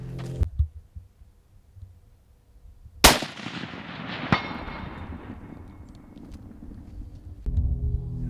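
A rifle fires one sharp, loud shot at a 350 range, cracking suddenly and then decaying in a long rolling echo across open ground, with faint rustling before and after.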